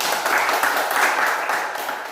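Students clapping for a classmate in a multigrade classroom lesson, a steady, fairly dense patter of hands lasting about two seconds at moderate level with no talk over it.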